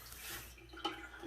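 Water drains out of a toilet tank while the flapper is held down, a quiet steady gurgling rush with one small splash partway through.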